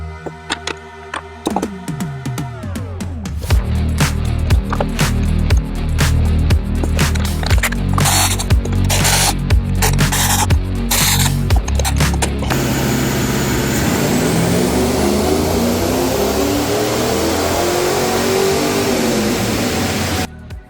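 A 1970 LeMans engine on a dyno with a new throttle body, roaring loud and steady through a full-throttle pull as the pitch climbs over several seconds, then a long, rough winding down.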